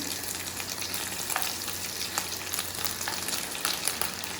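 Vegetables frying in hot oil in a pan for fried rice on a fast-heating home burner, a steady bright sizzle with faint scraping taps throughout, no talking.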